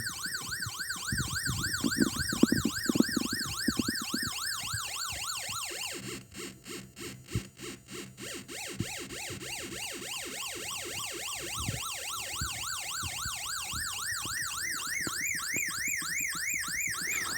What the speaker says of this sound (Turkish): polis siren devresini tanıtacağım ve hatta yapımını göstereceğim